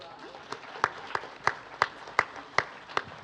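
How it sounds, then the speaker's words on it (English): Sparse, rhythmic clapping at a NAACP town hall gathering, with a handful of distinct claps landing at an even, fairly slow pace over a quiet room. "Let's give him a round of applause."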